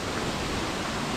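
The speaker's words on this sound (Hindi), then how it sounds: "इसके अलावा यहाँ पर भी एक झरना है" A waterfall in hilly forest terrain pours steadily, a dense unbroken rush of falling water heard up close with no gaps and no voices.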